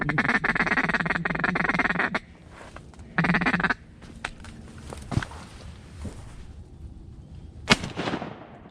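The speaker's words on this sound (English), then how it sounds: "I just heard him quacking, he just came out of nowhere." Loud mallard duck quacks in bursts at the start and again mid-clip, close by on a hunting marsh, followed by quieter gaps with a few sharp knocks and a rustle near the end.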